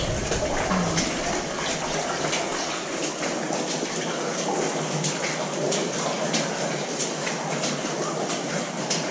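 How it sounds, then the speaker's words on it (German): Water splashes and pours down inside an abandoned mine near Bratislava, a steady, loud, hissing rush that holds evenly throughout with no pauses. "Das Platschen unten."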